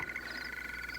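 A cartoon toad croaks in one short, raspy burst, close and fairly quiet, with no talking.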